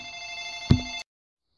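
A telephone rings with a steady electronic tone, broken by a sharp click before the ring cuts off abruptly into silence.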